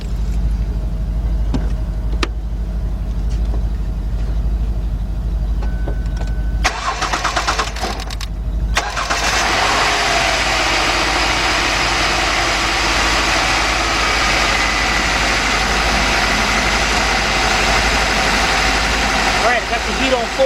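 A Lincoln LS engine cranks briefly and starts, then settles into a steady, loud idle with a broad roar from a fan or blower running on full blast; someone talks over it.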